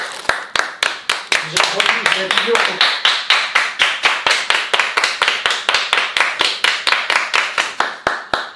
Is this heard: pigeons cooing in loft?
no